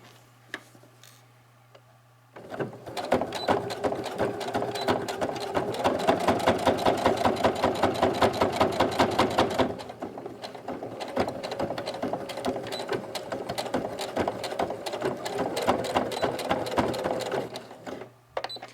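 A sewing machine back stitching a pleated face mask runs in a fast, even mechanical patter for about fifteen seconds after a quiet start, with a brief slowdown midway before stopping.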